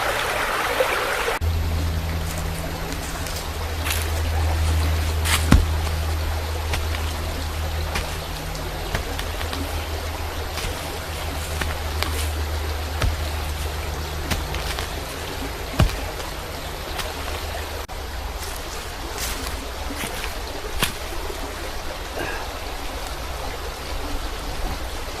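Small trout stream gushing and pouring on its way down to the sea, a steady broadband rush of flowing water close by, with occasional knocks and handling sounds over it and no speech.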